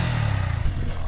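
Yamaha MT-15 motorcycle engine idling close by, a steady low throbbing rumble with no voices.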